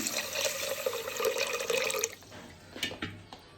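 Water poured into horse gram (muthira) in a pot for cooking a spiced Karkidakam puzhukku: a steady, close pour lasting about two seconds, then scattered drips and light clinks.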